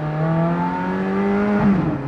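A 2005 Ferrari F430 Spyder pulling away, its engine droning loud and close with a rising tonal whine, then a brief shift near the end.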